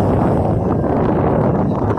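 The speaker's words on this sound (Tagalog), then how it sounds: "lakas pa ng hangin" Strong, steady wind roars across the microphone with a dense low rumble throughout, over rough open sea while fishing.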